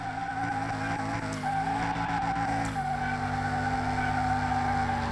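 The front wheels of a 2003 Hyundai Tiburon with a very raised, nearly off-road ride height scrabble and squeal steadily in Car Mechanic Simulator 2021, under a continuous droning engine tone for several seconds.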